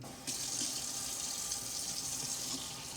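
Cold tap water runs steadily into a sink while a fish is being cleaned, a constant close splashing hiss with faint handling sounds beneath.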